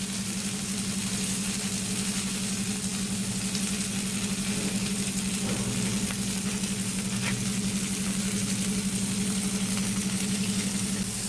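Fish (jalebi fish, tilapia) frying in oil in a pan, a constant loud close hiss and crackle over a low steady hum, with no voices.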